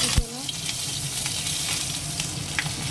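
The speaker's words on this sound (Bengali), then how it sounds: "তেলটা গরম হয়ে গেছে তেলে ফোড়ন দেবো" Whole spices and green chilies dropped into hot oil for tempering: a sudden crackle on contact, then a dense steady close sizzle with faint spattering pops.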